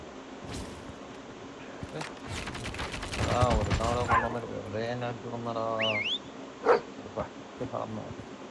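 A dog in the Call of Duty Mobile video game barks and whimpers in short bursts amid gunfire and game sounds, with a player talking over the action.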